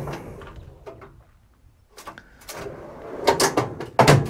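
Drawers on a Ram 2500 MITS aluminium tray canopy fitted with marine carpet slide and knock shut, a few short close thuds and rattles in a quiet space with faint noise between.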